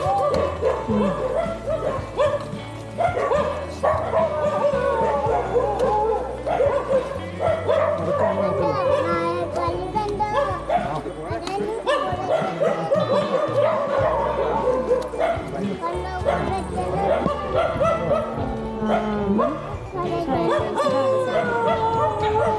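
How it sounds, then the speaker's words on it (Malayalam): A pack of dogs near a forest settlement in Idukki keeps up sustained overlapping barking, yelping and howling, loud and near, with people talking at times over the noise. "കുറെ നായ്ക്കളുടെ സൗണ്ട് കേൾക്കാനുണ്ട്"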